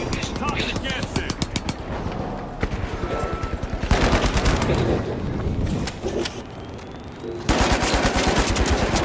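A deployed turret fires in a video game as rapid machine-gun bursts, loud and dense, rattling almost continuously for about nine seconds with brief pauses and heavier volleys near the end.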